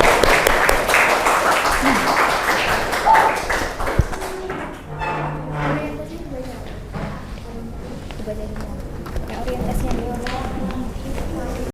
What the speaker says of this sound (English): please give applause to your friend.